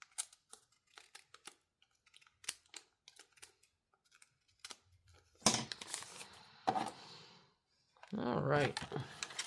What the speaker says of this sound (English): Let me just even that up with my scissors.